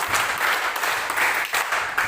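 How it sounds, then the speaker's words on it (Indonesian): A mathematics class claps together in a classroom, a fairly loud, slightly uneven burst of hands with small pauses and pulses rather than a smooth roar. "Oke, tepuk tangan buat kita."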